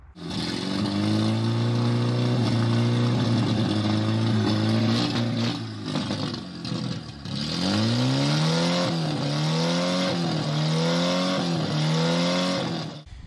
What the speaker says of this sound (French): Donc le moteur démarre très bien.